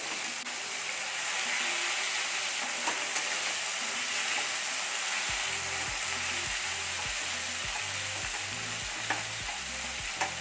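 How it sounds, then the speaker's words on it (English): Mutton sizzling and frying in a pan for bhuna gosht, a constant crackling hiss, with a rhythmic scraping of stirring starting midway as whole spices are added. "As the meat is frying, now you can add the khada masala to the pan"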